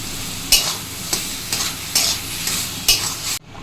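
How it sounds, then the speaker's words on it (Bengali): Banana flower paste is stirred in hot oil for a vegetarian mash, with a spatula scraping the pan in irregular strokes about every half second to second over a steady sizzle. The sound cuts off abruptly near the end. "পেস্ট করে রাখা মোচাটাকে তেলের সাথে একটু নেড়ে চেড়ে নিচ্ছি।"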